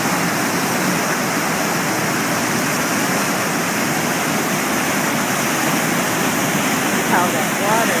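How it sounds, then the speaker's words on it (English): Big waterfall rushing in Upper Michigan, a loud continuous roar of falling water that fills the whole scene evenly, with a brief voice near the end. "Oh, there's the big falls over there."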